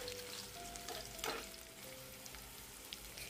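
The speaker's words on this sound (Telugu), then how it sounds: "పోపు అనేది వేగిన తర్వాత దీంట్లోకి మనము ఇంగువ వేసుకోవాలి" Mustard-seed tempering sizzles steadily in hot oil as asafoetida goes in for a chutney, a soft constant frying hiss with a brief louder spatter partway through and no talking.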